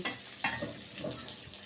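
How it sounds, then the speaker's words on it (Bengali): Shrimp fries with garlic and minced egg in a pan as it is stirred, a soft continuous sizzle broken by a couple of light scraping strokes. "রসুনের সাথে চিংড়ি মাছটা ভেজে নিচ্ছি"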